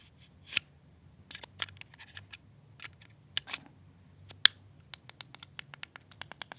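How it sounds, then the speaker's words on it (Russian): A car key fob in a heavy plastic case, with a spare physical key, is handled up close. Sharp little clicks and scratchy taps come irregularly over a quiet background, and no one speaks. "Это ключи от машины. Тут есть даже запасной физический ключ."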